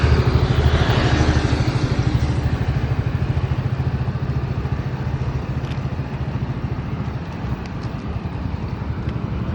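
A motorcycle engine idles close by with a steady, chugging low throb and light mechanical clatter while a learner works the clutch, holding even and loud with no revving.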